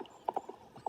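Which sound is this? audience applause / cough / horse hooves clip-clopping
horse hooves clip-clopping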